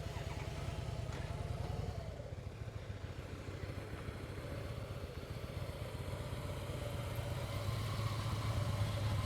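A motorcycle engine idles steadily during slow-speed riding skills practice, a continuous low mid-distance rumble that swells slightly near the end, with no talking.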